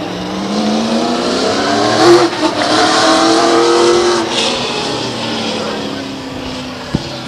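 Race car engines roar steadily at Stockton 99 Speedway during a September 2000 late model stock session, the loud, continuous drone rising and falling as cars circle, with an announcer talking over it throughout.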